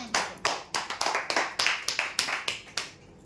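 A crowd claps loudly at a prize draw for customers, sharp bursts of applause rising and fading in quick waves for about three seconds with no talk over it.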